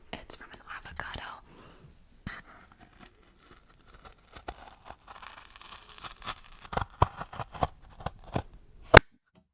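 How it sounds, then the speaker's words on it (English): Scissors snip and crunch through cardboard from an avocado box in close, quiet ASMR style, with scattered crisp cuts, crinkles and tearing that grow denser toward the end, over faint whispering. "now we have some cardboard and the same pair of scissors, and we're gonna cut it"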